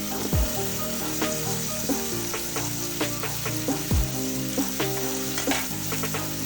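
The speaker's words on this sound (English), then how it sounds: "I'm also going to put our garlic in here to try to get those kind of seared too" Garlic sears in a hot pan of oil while Mexican beans are being prepared. A steady close sizzle runs throughout, broken by a few sharp stirring scrapes and taps, with no talking.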